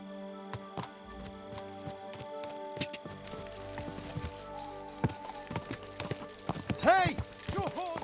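Horse hooves clip-clop along at a walk-to-trot pace in the medieval game Kingdom Come Deliverance 2, a run of uneven thuds over a bed of ambient game sound, with a brief whinny-like call near the end.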